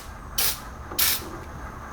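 Aerosol spray can sprayed at a Miata's engine bay near the exhaust header, in three sharp, loud hissing bursts with short gaps between them, close to the microphone.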